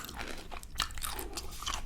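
Crisps crunch through a few close, crisp bites in a quiet setting, in the style of a restaurant role-play with a waiter.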